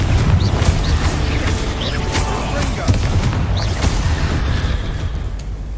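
Confringo fire spells bursting in the game Hogwarts Legacy, with repeated booms, crackling blasts and clattering impacts in a dense, loud battle, as a voice shouts over the fighting.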